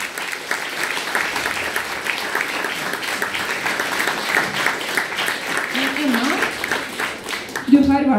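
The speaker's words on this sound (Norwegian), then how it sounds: "Skal vi si tusen takk til flotte lærere, gi dem ordentlig flott applaus her." Audience at a Norwegian event hosted by two masters of ceremonies gives teachers a sustained round of applause, steady dense clapping throughout, with a voice briefly speaking near the end.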